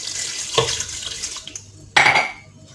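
Water is poured into a cooking pot of meat that is being prepared with prunes and apricots, making a close splashing gush with a clear burst of pouring near the end over faint kitchen clatter.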